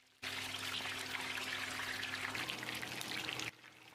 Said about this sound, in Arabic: هنزل عليه كوباية إلا ربع من السمنة البلدي، وفي الخطوة دي هخلي السمنة تتقدح مع الكراميل